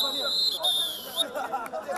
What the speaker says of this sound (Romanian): s-a auzit fluierul de final a primei reprize